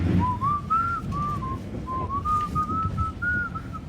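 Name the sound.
person whistling a song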